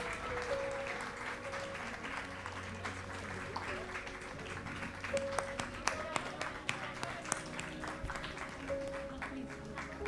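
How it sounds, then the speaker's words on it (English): Audience clapping for a children's drama performance at a Vedic school, steady applause through the clip with sharper individual claps in the middle, a sustained tone and some background voices underneath. "Let's continue the clapping."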